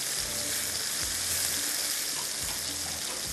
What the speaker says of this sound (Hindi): अब इसमें डालते हैं टमाटर और दही